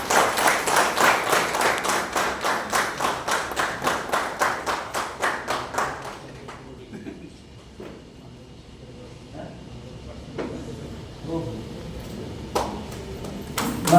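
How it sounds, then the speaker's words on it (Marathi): Audience at a school reunion for the 2004-05 tenth-standard batch claps in a steady, rhythmic burst for about six seconds, then fades into quieter room sounds with scattered taps and faint voices. "या सगळ्यांचा टाळ्या वाजवून अभिनंदन"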